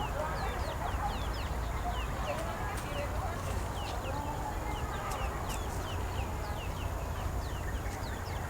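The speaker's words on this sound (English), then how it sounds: "Another little hen, and this one's got her chicks with her." Hen clucking softly among her chicks in a botanical garden, with the chicks' thin, high squeaks repeating throughout over a dense, steady bed of outdoor background noise.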